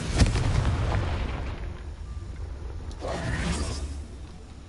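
A Confringo spell explosion in Hogwarts Legacy, a sudden booming blast with a rumbling tail, then a second whooshing burst a few seconds later.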